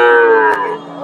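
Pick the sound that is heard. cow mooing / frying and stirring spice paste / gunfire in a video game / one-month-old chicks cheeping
cow mooing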